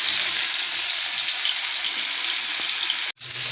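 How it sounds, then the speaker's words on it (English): Vegetables sauteing in a pan for sweet and sour chicken meatballs, a loud, continuous close sizzle that cuts off abruptly near the end and then resumes more quietly. "My vegetables are sauteing."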